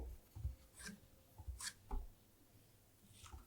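Marker or chalk writing on a board during a chemistry lesson, a few faint, brief scratchy strokes and rubs spaced irregularly over a quiet room.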